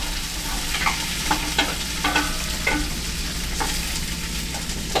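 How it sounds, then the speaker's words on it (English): Chopped celery sautés in a pot beneath a constant low sizzle, with a spoon scraping and stirring in short, regular strokes. "I'm gonna saute it a little bit"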